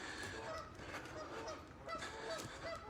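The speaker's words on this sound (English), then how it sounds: "Oh, geese." Geese honking repeatedly outdoors by a fishing spot, a series of nasal honks of moderate loudness over steady background noise.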